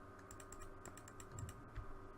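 Soft, rapid clicking from a computer mouse or keys while playing the train-building game Transport Fever, a quick run of close, quiet taps with no talk.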